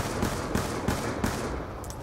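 A pack-a-punched magic gun fires in Black Ops 2 Nuketown Zombies: four loud, evenly spaced bursts roughly a third of a second apart ring out over a dense, steady game-noise bed.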